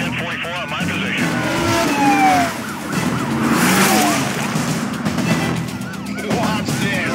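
A police car siren wails in the Need For Speed Carbon racing game, rising and falling over a roaring car engine and tire skids, with voices talking over the chase.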